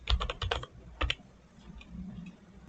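Quick bursts of typing on a computer keyboard while writing Python code, a rapid run of close clicky keystrokes, a short pause, then a couple more strokes before quiet room noise.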